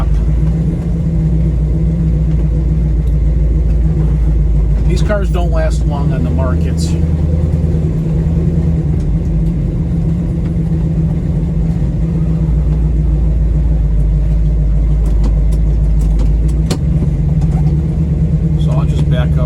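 A 1969 Chevrolet Nova SS396 rumbles at low speed as it rolls up to a classic car dealership, its steady engine drone running continuously beneath someone talking throughout.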